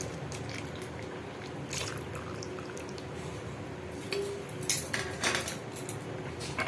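Amul milk powder mixed with water is poured into a pot of cooking rice for rice kheer, a soft, steady liquid pour with faint clinks of cookware, close by and without talk.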